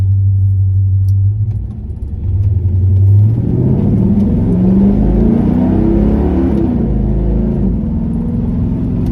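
A 1970 Chevy El Camino with a Blue Print 350 V8, TH400 transmission and Gear Vendors overdrive pulls away on a drive, its engine rumbling low and rising steadily in pitch as it accelerates, heard from inside the cab with keys jangling briefly.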